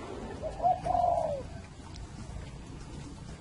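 Spotted doves coo inside a large 300-square-metre aviary, one clear, rounded cooing phrase rising close by early on, followed by quieter background calls and soft ambient noise.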